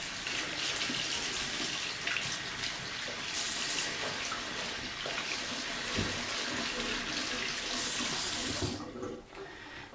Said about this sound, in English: Make sure you get the whole belt, make sure you rinse it off really well.